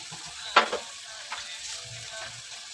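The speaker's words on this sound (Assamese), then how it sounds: "এইখিনি অকণমান মই ভাজি লওঁ" Spices frying in a pan, giving a steady soft sizzle with one sharp scraping stir burst near the start and a fainter stir shortly after, close and moderately quiet with no voices.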